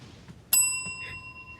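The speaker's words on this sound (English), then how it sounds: "I want you to ding your bell when you hear anything you might deem inappropriate" A single bright bell ding rings out close and loud, its clear metallic tone lingering and slowly fading after the strike in an otherwise quiet room.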